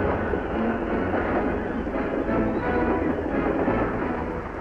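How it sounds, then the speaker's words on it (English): A train rolling along railway tracks in wartime France, a steady loud rumble of wheels and cars with a dense low roar that holds throughout, no voices. "once again the fast trains thunder across France"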